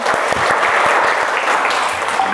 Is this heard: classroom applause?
yes